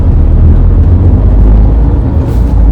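A car pulling away in second gear, with a loud, steady low engine rumble and road noise filling the whole stretch, no voices.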